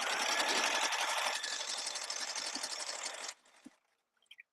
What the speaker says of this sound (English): I'm just sewing straight stitches. Just straight stitches, zipping all the way down.